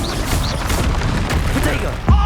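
A spell explosion in Hogwarts Legacy lands as a short booming blast near the end, set against continuous battle noise and bursts of other effects while a voice calls out in the background.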